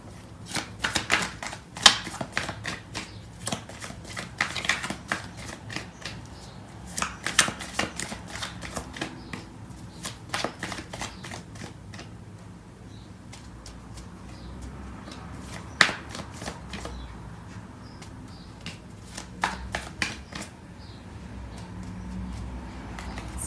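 Tarot cards are shuffled by hand in repeated riffling bursts of quick, crisp flapping and slapping, close and fairly soft, with short pauses between rounds and no talking.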